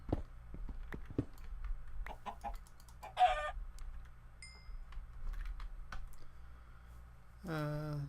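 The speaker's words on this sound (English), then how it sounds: "Come here, chicken." Chickens clucking in Minecraft's Agrarian Skies modpack, with several short clucks and keyboard-like clicks scattered through, plus a rising squawk near the end over a low steady hum.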